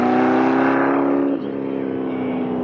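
A loud race car engine roars close by on the Snetterton circuit with a high sustained whine, then the pitch drops as it passes and recedes, leaving a steady engine drone.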